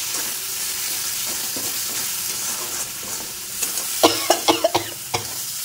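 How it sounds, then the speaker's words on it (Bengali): Spice masala of chilli powder, turmeric and salt frying in a pan, a steady close sizzle that runs throughout, with a few louder stirring scrapes near the end. "মশলাটা বেশ ভালোই ভাজা হয়েছে"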